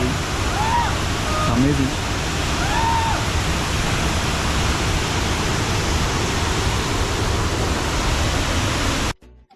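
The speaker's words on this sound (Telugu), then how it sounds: "మీకు స్లైట్గా సౌండ్స్ అయితే వినబడతాయి. వాటర్ ఫాల్ పడుతున్నది" Waterfall at Wayanad pouring heavily, a loud, dense, unbroken roar of rushing water with a man's brief exclamation and faint bird chirps near the start, cutting off abruptly at the end.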